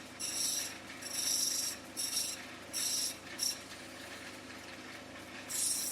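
An opal stone ground on a wheel to shape it and remove the sandy edge, heard as a close, loud, raspy hiss in repeated bursts of about a second, separated by short pauses.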